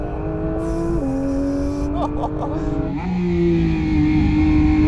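A Porsche 911 GT3 accelerates hard on a race track, its engine note climbing steadily and loudly from inside the car, broken by a few quick upshifts, with no talking.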